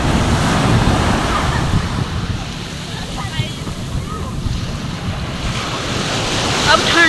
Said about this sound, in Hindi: सारा समुद्र कितनी लहरें दे रहे।